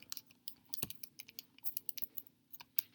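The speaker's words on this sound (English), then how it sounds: "If we type that into our calculator" Numbers are tapped into a calculator in a quick, uneven run of light plastic key clicks, close and quiet, with no voice heard.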